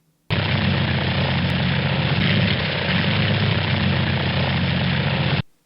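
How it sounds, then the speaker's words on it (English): A DJI Mavic Air drone flies close by with a steady, loud whirring propeller buzz that holds for about five seconds and then cuts off abruptly. "It's a bird. It's a plane. It's a drone."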